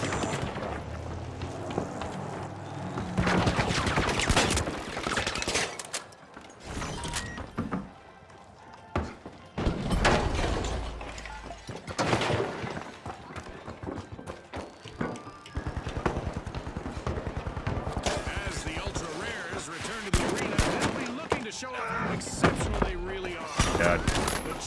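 Gunfire in The Finals video game, with dense bursts of rapid shots and impacts running through most of the stretch between quieter gaps, mixed with other game effects.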